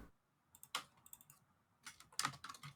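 Computer keyboard keys clicking while someone works on a spreadsheet: two quiet clusters of quick, uneven keystrokes separated by a near-silent pause, with no voices.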